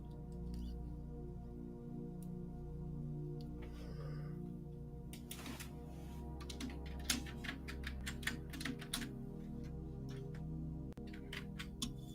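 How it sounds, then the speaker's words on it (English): Typing on a new computer keyboard, a fairly quiet replacement for a louder one: scattered soft key clicks tapping in irregular bursts, close by, over a steady low hum. "I had to get a new keyboard. I hope it's not as loud as the last one."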